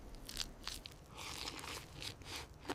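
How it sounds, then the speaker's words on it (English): Quiet crunching and tearing bites as a Neanderthal slowly chews nutrient-rich organ meat in a cave, with irregular soft chewing sounds over low background noise and no speech. "Koda chewing slowly, looking up with deep gratitude and relief."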